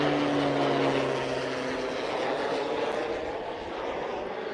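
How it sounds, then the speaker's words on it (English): Loud, newer airplanes flying overhead, a steady broadband engine roar that fills the whole stretch with a low tonal hum fading early, alone with no talk. "a lot of these planes today are very loud, and they're newer, loud planes that are coming in from somewhere"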